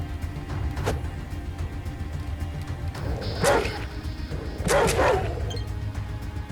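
Dog barking in the post-apocalyptic ATOM RPG video game, two clusters of sharp yelping barks in the second half over a low game soundscape.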